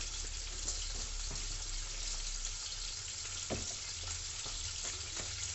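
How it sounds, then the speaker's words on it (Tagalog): Water poured into a hot frying pan sets off a steady, close sizzle and crackle, with a few brief pops and stirring sounds mixed in, and no talking. "First, we're gonna add some water."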